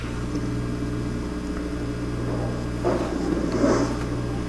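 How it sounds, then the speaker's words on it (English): An oil heater running in an art studio gives a steady low electrical hum that drones throughout, with a few faint rustling noises near the end and no voices. "is the sound of my oil heater in the studio"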